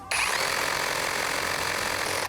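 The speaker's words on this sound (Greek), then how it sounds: "Θέλω λίγο να δείτε την ένταση που κάνει μπροστά το τρυπάνι" A BULLE battery-powered cordless drill runs at full speed with a steady, high, whirring motor whine. It is close and loud, starting and stopping abruptly with no voices over it.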